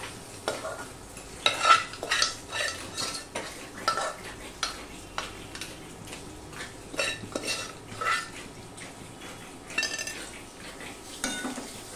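Chana dal tipped into a pan of frying vegetables and turned with a metal ladle, a run of close, repeated scrapes and knocks against the pan over a quiet background sizzle.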